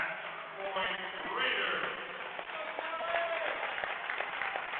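A crowd applauds at a women's college volleyball match in McLennan Gymnasium, the clapping and cheering a steady, muffled wash under a commentator talking over the broadcast.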